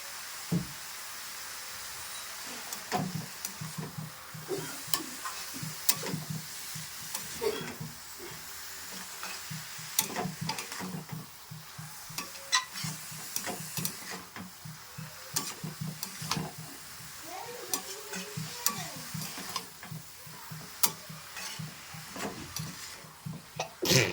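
Cauliflower is fried in a pan with a little salt, a soft ongoing sizzle broken by repeated scraping and stirring strokes, with a cough or throat-clear now and then.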